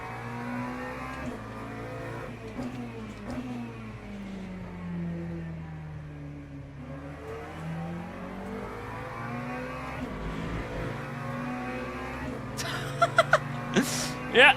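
LMP3 race car engine in a racing video game, a sustained revving drone that rises and falls in pitch through gear changes and corners, steady and moderately loud, with a few brief clicks near the end.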